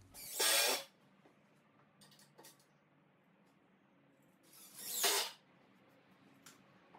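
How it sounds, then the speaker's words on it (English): A ratchet strap is tightened to draw the arms of a farmhouse outdoor table together: two short, close bursts of ratcheting clicks several seconds apart, with faint handling noises between them. "I take another ratchet strap to pull these arms together about 1 inch"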